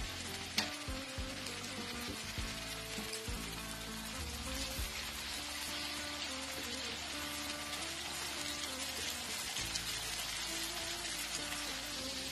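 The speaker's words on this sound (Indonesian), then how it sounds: "maka ayamnya kita goreng pakai api cenderung kecil sampai berwarna" Flour-coated chicken pieces fry in oil over low heat, giving a steady, dense sizzle and crackle that lasts the whole time. A few soft knocks and clatters of utensils sound under it, and no one speaks.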